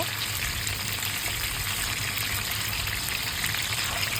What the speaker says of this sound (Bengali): এবার আমি একটি ফ্রাই প্যানে সয়াবিন তেল দিয়ে মাছের মাথাটা ভেজে নিচ্ছি